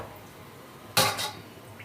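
A lid is set down on a cooking pot while papaya pickle is being prepared, giving one sharp metallic clank and then a softer rattle as it settles, close by in a quiet kitchen.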